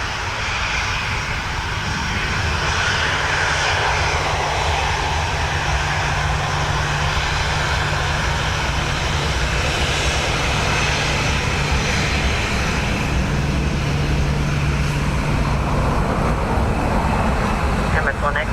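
An Emirates airliner takes off from runway 10 right at Dublin Airport on a windy, wet day, its engines a loud, steady roar that holds throughout, with air-traffic radio voices over it.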